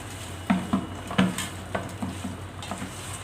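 Fish curry being stirred in a pan, a spoon scraping through the thick mixture in a handful of spaced strokes with a faint sizzle underneath, close and fairly quiet.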